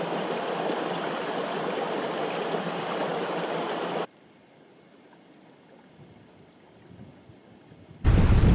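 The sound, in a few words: Glennamong River flowing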